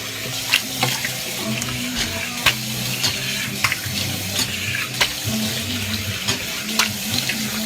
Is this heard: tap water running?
yes